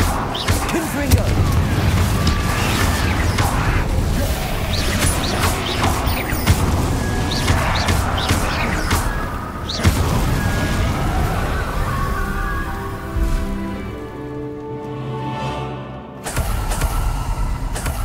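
Confringo fire spell blasts in the Hogwarts Legacy video game, loud rumbling explosions and crashing impacts in dense succession with a lingering tonal hum, under and between a player's spoken spell calls.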